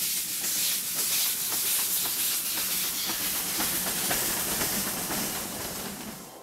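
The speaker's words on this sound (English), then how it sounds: "The steam locomotive will lead this final part of the train adventure to the last station of" A steam locomotive runs on the Tren Crucero line in Ecuador toward Durán, producing a loud, continuous hiss of steam with a faint rhythmic clatter of wheels underneath, steady and close throughout.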